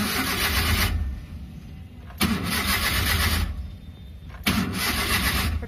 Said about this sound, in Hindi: सेल्फ ले रहे हैं पर स्टार्ट नहीं हो रहा है।